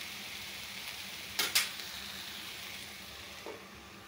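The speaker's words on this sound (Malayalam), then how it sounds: "നന്നായിട്ടൊന്ന് വഴറ്റി കൊടുക്കാൻ മതി" Masala sautéing in oil for egg noodle biryani gives a steady, close sizzle, broken by a couple of brief scraping stirs and one fainter stir later on, with no one talking.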